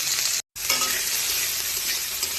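Onions sizzle loudly in hot oil in a pan while chowmein is cooked, a steady dense frying hiss broken only by one brief gap near the start, close and alone with no talking.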